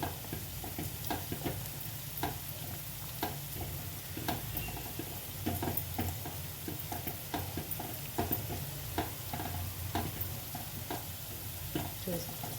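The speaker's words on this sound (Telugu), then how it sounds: "ఒక్కసారి పప్పు గుత్తి పెట్టుకుని ఒకసారి కలిపేసుకుందాం ఈక్వల్గా మొత్తం కలుస్తాయి" Dal with cooked tomato and spinach (palak) being stirred and mashed with a wooden masher in a pot, giving soft repeated wet thuds and scrapes over a low steady simmer, with no talking.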